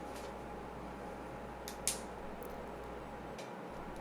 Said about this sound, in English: First, I'll turn on the computer so you can hear the normal fan sound